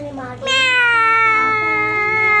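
A cat meows in one long, loud, drawn-out call that starts weakly and swells, rising and then holding steady, heard close up.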